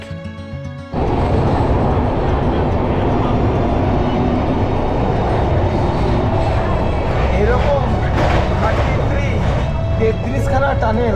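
A train runs through mountain tunnels on the Jammu to Udhampur line, a loud, continuous roaring rumble that swells in after a quieter first second and holds steady throughout.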